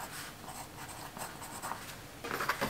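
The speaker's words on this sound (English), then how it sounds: "I'm going to go ahead and write that on here." A pen scratching on paper while marking up a sewing pattern, close and quiet, with soft irregular strokes and a busier burst of scribbling at the end.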